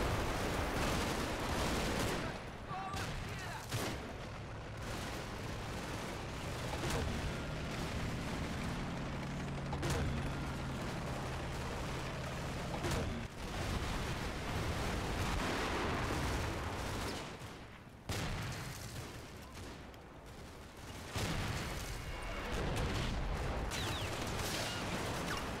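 A German flak autocannon fires in the Combat Mission video game, with scattered sharp reports and booms spread over a long, noisy battlefield din.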